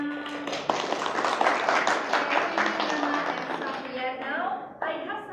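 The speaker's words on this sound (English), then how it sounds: "Give applause for Satria and Nana." Classroom applause for two students, a brisk, fairly close patter of many hands clapping under a teacher's voice, fading toward the end as talk continues.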